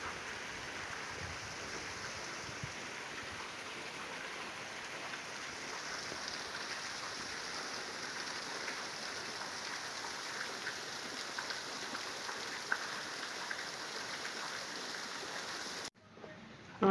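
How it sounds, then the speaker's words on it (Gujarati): Heavy monsoon rain pours steadily outside a Bhutnath Mahadev temple, a dense unbroken hiss of falling water held at an even level throughout before cutting off abruptly at the end. "જુઓ ગાઈસ, આટલો વરસાદ આવ્યો ધમાકેદાર."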